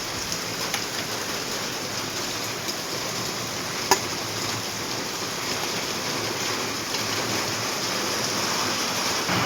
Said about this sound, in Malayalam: നല്ല മഴയാട്ടോ